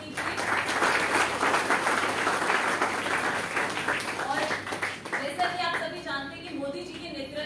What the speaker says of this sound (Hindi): उनका तालियों से स्वागत कीजिए